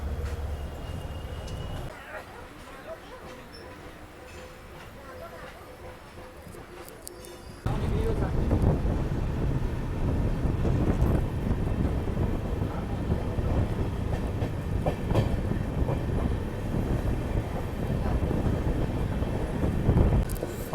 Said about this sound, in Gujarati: ખાલી સાઉન્ડ સાંભળી શકો ટ્રેનનો.